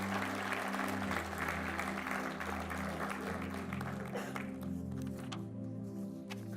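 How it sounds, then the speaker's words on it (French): Church congregation applauding in a dense, steady wash of clapping that runs throughout, with sustained low musical tones or organ underneath and no clear talk. "On peut les applaudir."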